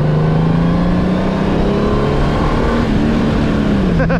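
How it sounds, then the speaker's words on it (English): Honda Goldwing motorcycle engine while riding on the road, a steady loud low drone with wind rush, the engine pitch shifting slightly as it holds speed. "I'm on a Goldwing, so this is, you know, a wonderful long distance motorcycle"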